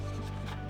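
Abrasive roughing of a car body panel surface during a rusted Porsche restoration makes a steady, close, gritty rasp with a low hum beneath it, continuous through the short moment.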